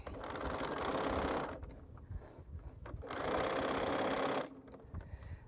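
A sewing machine stitches quilt pieces in two steady, close runs of needle clatter separated by a short pause, with faint background noise between the bursts.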